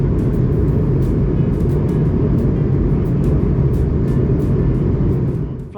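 A Breeze Airways airliner climbs after takeoff from LAX over Santa Monica Bay, heard from inside the cabin as a steady, loud, dense engine and airflow roar that holds evenly throughout and eases slightly at the very end.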